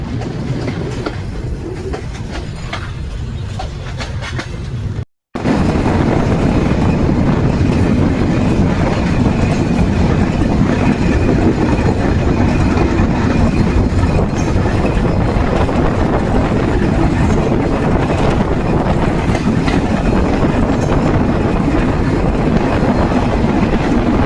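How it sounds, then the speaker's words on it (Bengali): The Nilsagar Express train rolls out of Atrai railway station with a heavy, continuous rumble and rhythmic clatter of wheels, growing fuller after a brief break and staying loud throughout. "নীলসাগর এক্সপ্রেস আত্রায় রেল স্টেশন ছেড়ে যাচ্ছে"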